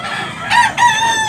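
A gamefowl rooster at a Tabunok, Cebu fowl market lets out a close, loud crow in two quick bursts, clear above faint background noise.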